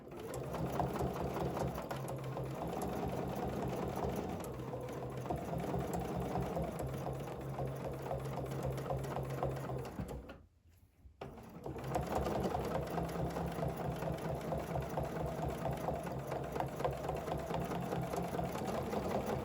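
A domestic sewing machine stitches a ruler-guided quilting design in a fast, steady mechanical whir, stopping briefly about midway before running on again at the same close, even pace.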